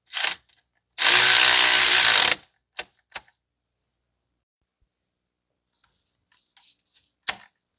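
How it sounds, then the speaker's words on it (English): An impact or power tool tightens the alternator pivot bolt on a 2012 Toyota Corolla 1.8, one loud buzzing burst of about a second, then a few short clicks and faint clatter. "we're just going to tighten down the pivot bolt"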